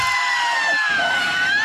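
A loud sustained scream in a Swedish cartoon, a single shrill voice holding a long wavering high pitch over a dense noisy bed, close and continuous for the whole moment.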